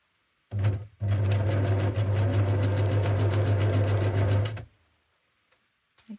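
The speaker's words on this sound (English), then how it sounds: "So straight down the middle with a nice zigzag stitch" A sewing machine runs a zigzag stitch down the middle of fabric in one steady burst of about four seconds, a loud rapid mechanical clatter that starts abruptly and stops, with brief quiet before and after and no talking.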